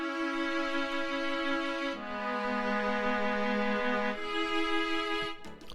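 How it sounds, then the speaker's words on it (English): FL Studio's stock solo string patch plays sustained chords, with three long held chords changing every couple of seconds, smooth and alone, then a brief fade at the end. "And the string solo by itself sounds like this"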